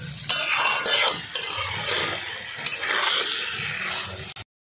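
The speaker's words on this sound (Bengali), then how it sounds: "কলি আর আলু দিয়ে দিচ্ছি, কলির ডাঁটা আর আলু ভেজে রাখা" Potatoes and greens stalks frying and being stirred in a pan in a tribal village kitchen, a steady close sizzle with intermittent scraping stirs throughout, no voices.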